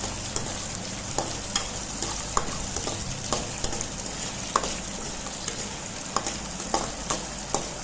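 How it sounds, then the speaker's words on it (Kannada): Green chillies for girmit fry in hot oil, giving a steady, close sizzle with regular sharp clicks and scrapes as a spoon stirs them in the pan. No one talks over the cooking. "ಸ್ವಲ್ಪ ಹೊತ್ತು ಇದನ್ನು ಫ್ರೈ ಮಾಡಬೇಕು, ಮೆಣಸಿನ್ಕಾಯಿ ಎಲ್ಲ ಫ್ರೈ ಆಗೋ ತನಕ"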